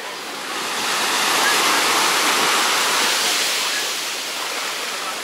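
Sea waves on Cleopatra Beach in Alanya, Turkey, make a steady broadband roar of surf that swells slightly in the middle and stays close and fairly loud throughout, with no voices.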